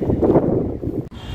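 Strong outdoor wind buffets the microphone where a tripod is set up, producing a loud, uneven low-frequency rush that swells and drops, with a brief dip near the end.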